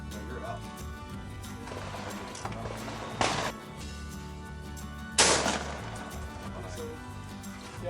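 Shotgun blasts at a sporting clays range, two sharp, loud reports several seconds apart over an outdoor background, with a person speaking between the shots.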